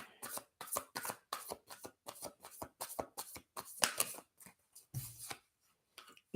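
A tarot deck is shuffled by hand in quick rhythmic bursts of crisp riffling card flicks, close and fairly quiet, with short pauses between runs and no talk.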